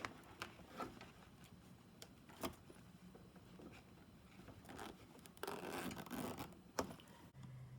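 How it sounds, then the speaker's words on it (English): A zipper rasps open in short, scratchy pulls with brief pauses between them, fairly close and fairly quiet, with soft handling rustles throughout. "now we're going to undo the zipper halfway."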